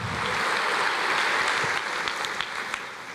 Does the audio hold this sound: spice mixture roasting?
no